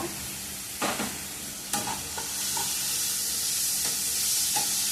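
Green chilies and tomato sizzling in a hot pan while being stirred, with a loud, bright frying hiss that swells after a few sharp scraping strokes of the spoon, close up and without speech.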